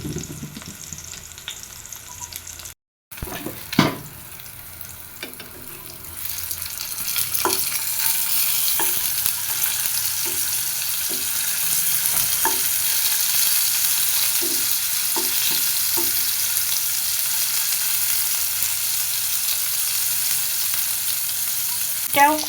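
Pointed gourd (potol) pieces frying in a pan on both sides produce a strong, continuous sizzle. A brief drop-out comes early, and the hiss then grows louder and steadier, with occasional clicks from turning pieces and no voices.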